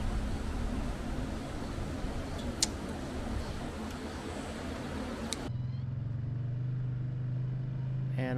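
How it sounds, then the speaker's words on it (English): Car driving around a campground near Flagstaff, Arizona, a continuous broadband road and engine rumble that shifts midway into a steadier low engine hum inside the vehicle, with faint talk. "I'm just going to drive around and show you a couple of the other campsites"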